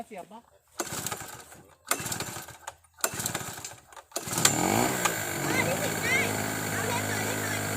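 Portable generator engine being pull-started: three short sputtering attempts that die out, then it catches and runs steadily at a raised rev, with someone talking between the tries.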